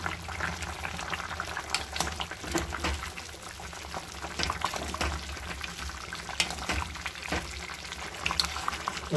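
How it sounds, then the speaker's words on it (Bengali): Chicken curry with potatoes and whole garlic simmering in a pot, with a steady bubbling and sizzling that runs quietly throughout, broken by a few brief sharper pops and clinks. "মাংসটাকে ভালো করে ফুটতে দেবো"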